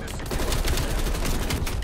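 Rapid gunfire from the video game Call of Duty: Black Ops Cold War, a dense continuous burst of shots filling the short stretch at steady loudness.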